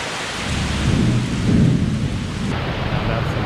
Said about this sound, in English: Thunder, baby.